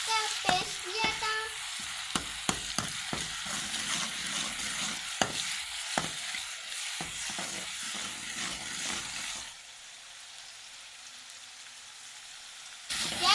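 Onion paste sizzling and crackling in hot oil with occasional stirring clicks, then the frying settles to a softer, steady hiss.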